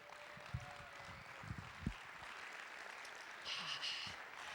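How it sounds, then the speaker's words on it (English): Applause at a live comedy show for the host and MC, scattered clapping at fairly low level with a few sharper claps and a brief swell near the end. "Keep that applause going for our host and MC"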